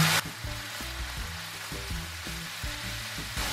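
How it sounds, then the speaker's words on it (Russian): Shrimp sizzle steadily in a frying pan, a close, even crackle with occasional stirring and no talk. "Креветки обжарились, не надо их готовить долго"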